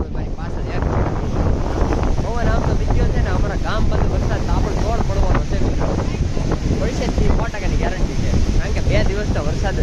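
Strong wind blows in off the sea at a coastal village during an unseasonal summer rainstorm, a loud constant roar buffeting the microphone while someone talks throughout.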